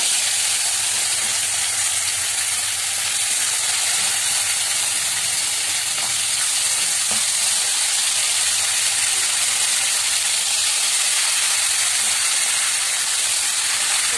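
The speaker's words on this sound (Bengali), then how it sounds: "মাংসটা আস্তে আস্তে এর মধ্যে দিতে থাকবো" Meat fries in oil and a little sugar in a kadai, giving a loud, steady, unbroken sizzling hiss throughout with no voices.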